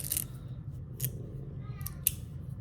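Carbon fiber magnetic fidget slider rattling, several short sharp clicks and snaps spaced irregularly, close and fairly quiet over a low background hum.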